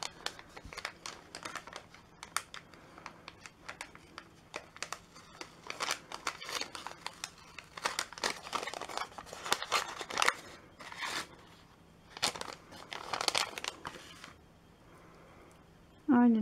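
Wrapping paper or a gift package being torn open and crinkled, in bursts of close rustling and tearing between pauses, with someone speaking softly in places.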